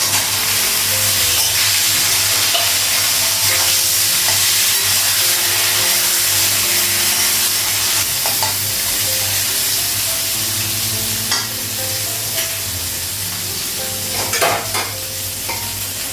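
Okra fries in a pan with turmeric while a utensil stirs it, loud close sizzling under scraping strokes that repeat in uneven bursts, with sharper clatters toward the end.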